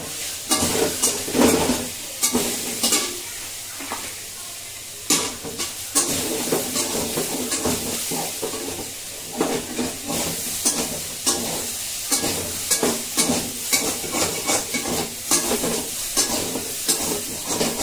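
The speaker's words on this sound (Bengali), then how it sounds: "সয়াবিনটা অনেকটা ভাজা ভাজা হয়ে গেছে।" Soybean chunks frying in a pan, a steady hiss and sizzle broken by repeated scraping strokes of a spatula stirring them, close and fairly loud with no voices.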